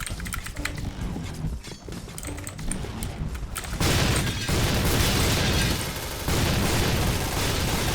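A grenade blast in a first-person shooter game, Thai gameplay: after several seconds of busy low rumble and clatter, a loud, dense explosive burst erupts near the four-second mark and keeps roaring through to the end.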